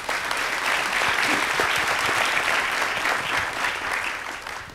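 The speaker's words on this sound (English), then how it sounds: "give a round of applause for our panelists" An audience at an arts policy panel discussion gives the panelists a sustained round of applause, dense and steady throughout, tapering slightly at the end.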